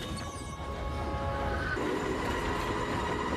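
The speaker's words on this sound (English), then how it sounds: "The train, okay." A train from a Ms. Marvel episode rumbles past with a steady mechanical roar and faint metallic squeals, the background hum continuous and fairly muted throughout.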